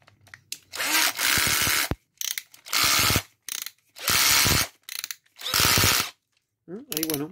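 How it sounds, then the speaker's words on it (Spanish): A Skil 2212 cordless drill driver whirs in several short bursts, its torque clutch clicking in a rapid ratchet as it slips, with pauses of silence between each burst. "podemos ver que está funcionando el torque del atornillador"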